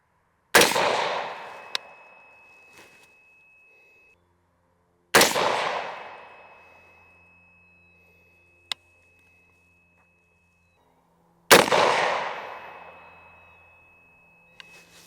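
Three loud, sharp rifle shots from a PSA Sabre 20-inch rifle firing 55 grain ball ammunition, spaced several seconds apart, each with a decaying echo and with faint clicks between them.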